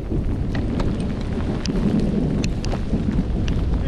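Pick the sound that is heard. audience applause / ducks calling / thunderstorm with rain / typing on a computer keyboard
thunderstorm with rain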